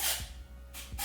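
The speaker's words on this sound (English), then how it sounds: "I'm just kind of spraying this throughout." Dry shampoo sprays through hair in two short aerosol hisses, one at the start and a longer one near the end, close and fairly loud with quiet between.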